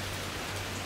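Steady rain pours outdoors, a dense even hiss of drops hitting surfaces that holds unchanged for the whole second, with no voices.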